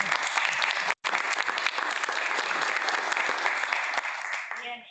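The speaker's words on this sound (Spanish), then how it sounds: "Muchísimas gracias, un aplauso" Sustained audience applause at a healthy-reformulation demo day, a dense steady wash of clapping for about four seconds with a brief dropout near the first second, fading out at the end.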